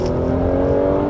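A Mercedes-Benz C-Class with a 3-liter V6 and 4MATIC all-wheel drive, in comfort mode, pulls hard under acceleration. A steady, smooth engine drone with a rising whir holds for about a second, heard from inside the car with no talking.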